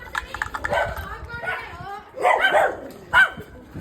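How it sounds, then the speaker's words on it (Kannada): A puppy barks in short yips as it runs up toward people, with a couple of quick barks near the end, while people talk over it. "ಬನ್ನಿ ಒಂದು ನಾಯಿ ಮರಿ ತೋರಿಸ್ತೀವಿ"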